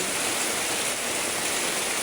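Strong floodwater rushing during typhoon rain, a steady, loud broadband roar of churning water and downpour with no break.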